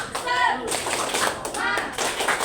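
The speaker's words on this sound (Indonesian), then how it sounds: "Satu, dua, tiga, tepuk semangat." Children in a classroom perform a rhythmic spirit clap: quick bursts of hand claps and taps in short patterned groups, close and lively, with young voices chanting along between the beats.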